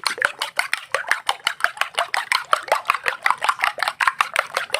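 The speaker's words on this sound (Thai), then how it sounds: "ตีให้เข้ากันนะคะ" Eggs and brown sugar whisked in a bowl, a fast steady run of bright clinking strokes as the whisk or utensil beats against the sides, close and even, with no talking.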